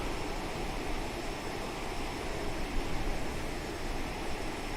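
Steady broadband roar of an Aerosoft CRJ-700's jet engines cruising through clouds in Microsoft Flight Simulator, a constant even hiss and rumble with no voices.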